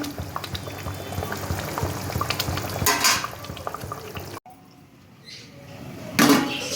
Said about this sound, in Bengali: এটাকে এখন আমি ভালোভাবে ফুটতে দেব, পটলগুলো যাতে নরম হয়ে যাবে সঙ্গে।